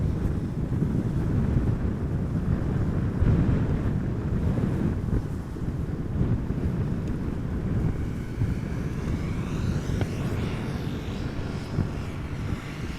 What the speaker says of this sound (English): So the wind is definitely picking up.